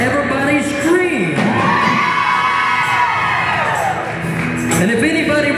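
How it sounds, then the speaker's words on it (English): A theatre audience of children screams loudly and continuously, dipping briefly mid-way before swelling again, a dense, close wall of high shrieks and shouts. "everybody on this side of the room is ready to have fun, everybody scream"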